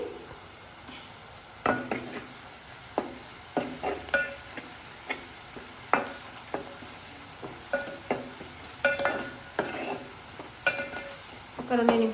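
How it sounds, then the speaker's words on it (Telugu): Onions with half a spoon of turmeric are stirred in a frying pan, giving a steady sizzle under repeated scraping strokes of a spoon against the pan, close and fairly loud, with no one talking. "ఇప్పుడైతే ఒక అర స్పూన్ అయితే పసుపు వేసుకొని కలుపుకోవాలి"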